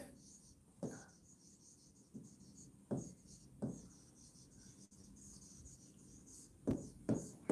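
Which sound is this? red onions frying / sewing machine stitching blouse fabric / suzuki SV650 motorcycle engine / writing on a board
writing on a board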